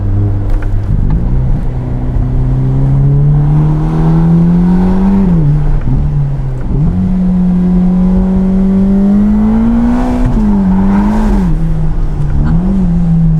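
A high-revving Ferrari Roma engine climbs in pitch continuously, dipping briefly between gears before surging again, loud and close with no talking.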